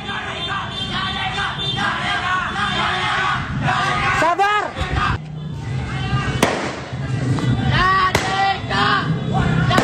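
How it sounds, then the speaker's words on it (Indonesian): Firecrackers are set off during a street brawl between teenage gangs in East Jakarta, with sharp bangs and crackling bursts amid shouting crowd noise and hubbub. "para pelaku juga menyerang lawannya menggunakan petasan."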